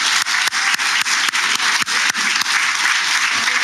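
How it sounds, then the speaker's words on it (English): Congress delegates at a provincial party gathering applaud for a mayoral candidate, a full, close crowd clapping with a few loud individual claps standing out above the steady wash. "Let's give him another big round of applause."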